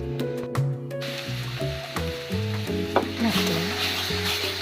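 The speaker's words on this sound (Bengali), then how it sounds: "তেজপাতা, রসুন, পেঁয়াজ ভেজে নেব" Bay leaf, garlic, onion and cumin fry in hot oil, giving a close, steady sizzle with stirring and scraping sounds from the pan throughout.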